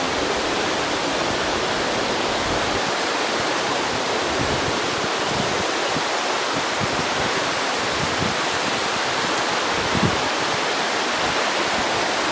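A waterfall cascade along the Glade Creek trail roars as a loud, continuous, broadband rush of falling water, steady and close for the whole stretch with no voices.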